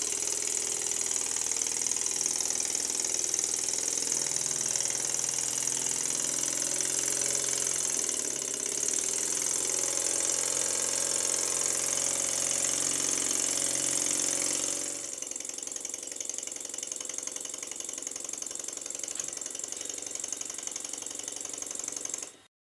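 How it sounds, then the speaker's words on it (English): A small Stuart model steam engine runs steadily with a continuous, close mechanical chuffing and whirring that holds even throughout, then dips slightly in level about two-thirds of the way through before cutting off. "It's a very nice little engine, it runs well and it's powerful."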